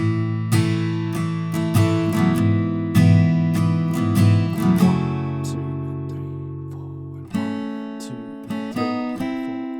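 Acoustic guitar strumming the chord progression of a song, alone and clear, with steady strums, several rings left to sustain, and a fresh strong strum near the end.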